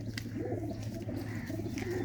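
Pigeon with distinctive eyes, held in a keeper's hand, giving a steady, rolling coo that repeats in low pulses close by, with faint background noise.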